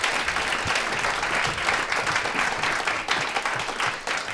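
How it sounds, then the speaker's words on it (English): Sustained audience applause at a Christmas concert of classical music, a dense, steady wash of many hands clapping fairly close and loud, filling the whole stretch without talk. "One more applause."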